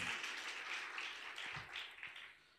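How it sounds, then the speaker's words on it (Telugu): A church congregation claps in thanks to God at a service, a faint, fairly short burst of applause that fades toward the end. "చప్పట్లు కొడదాం ఒక్కసారి దేవునికి."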